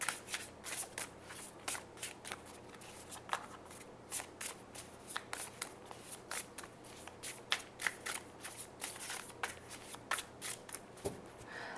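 Tarot cards are shuffled by hand in a continuous, rhythmic series of crisp riffling bursts, close and fairly loud with no talking.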